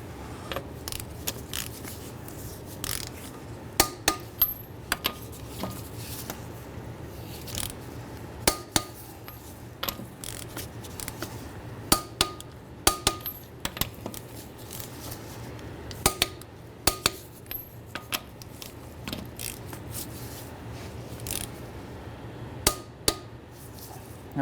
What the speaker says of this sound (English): we're gonna torque our lug nuts down to 80 foot-pounds.